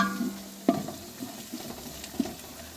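Peas frying in a pot with onions, a soft sizzle broken by a few sharp crackles and pops, heard up close without voices.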